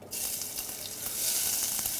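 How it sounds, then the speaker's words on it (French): Steady, close sizzling of onions and shallots frying in hot olive oil in a saucepan, a bright crackling hiss that swells slightly louder toward the end. "On va faire suer les oignons dans la casserole qui chauffe là-bas."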